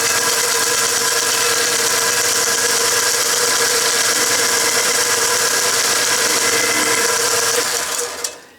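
A restored Mead band sander runs its belt at about 2,000 feet per minute, a loud, steady mechanical whir with a constant tone that cuts off abruptly near the end.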